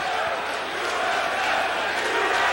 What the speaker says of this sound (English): And the crowd here in Mississippi chanting USA.